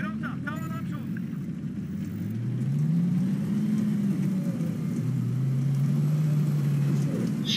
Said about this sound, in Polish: Silnik diesla w Abramsach, o jak ja to kocham.